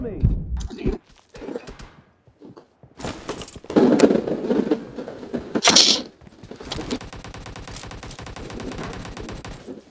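Gunfire and a blast hitting the player during a team deathmatch video game, bursts of rapid shots and booming impacts, with someone shouting excitedly over the noise.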